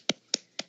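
Three sharp, evenly spaced hand claps, about a quarter second apart, close and dry with no voices.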